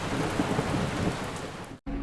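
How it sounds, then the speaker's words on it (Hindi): Steady rain with thunder, a dense, even rumble of rainfall and storm noise that cuts out briefly near the end before resuming. "ये बारिश का सिलसिला यूं ही काफ़ी दिनों तक चलता रहा।"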